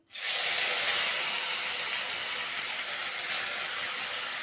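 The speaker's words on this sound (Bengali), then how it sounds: "নুন হলুদ মাখানো মাছগুলো আমি ভেজে নেবো কড়াইয়ে দিয়ে দিচ্ছি" A loud, steady hiss of salt-and-turmeric-coated fish frying in hot oil in a wok begins abruptly and continues without pause, bright and close.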